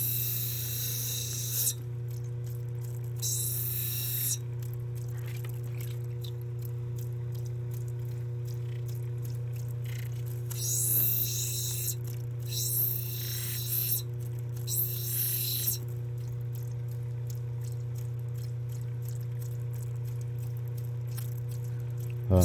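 Black opal is ground on a machine under a steady electrical hum, with several loud, rasping bursts of grinding a few seconds each, separated by quieter stretches of motor drone.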